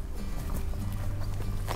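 Hooves of a gentle Rhenish-German draft horse walking, a steady series of soft clip-clop steps heard close over a low background hum.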